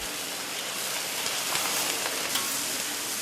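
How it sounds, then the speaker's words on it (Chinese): Guanyin greens stir-fried with pork belly and bitter bamboo shoots over high heat give a dense, continuous sizzle and hiss, loud and close, with faint tossing scrapes. "大火爆炒。"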